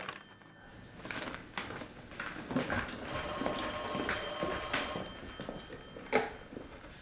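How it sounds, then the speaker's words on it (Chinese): An old-style telephone bell rings indoors in a household scene, repeated bright rings sounding at moderate volume among soft thumps and footsteps, with no talking during the ringing. "美玲啊，电话。"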